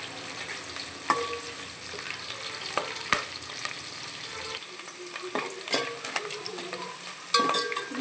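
Chopped onions fry in a pan for chicken gravy, a steady close sizzle with occasional scrapes and clinks of a spoon stirring through them, no voices.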